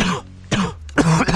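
Three close, harsh coughs in quick succession, loud and raspy, with short pauses between them.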